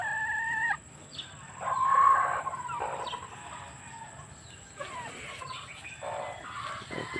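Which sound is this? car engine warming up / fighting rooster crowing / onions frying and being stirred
fighting rooster crowing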